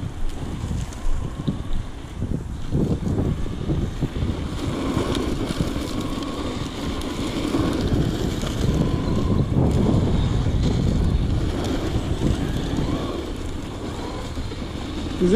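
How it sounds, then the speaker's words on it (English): A Traxxas Stampede RC truck drives under throttle outdoors, its motor a continuous rushing whir buried in heavy, steady wind noise across the whole stretch, with no talking. "All you gotta do is give it a little throttle and just watch it go."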